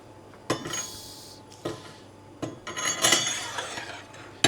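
Metal whirlpool paddle set into a steel brewing kettle during the boil, a handful of separate bright clanks and scrapes spaced a second or so apart, close and fairly quiet with no talk.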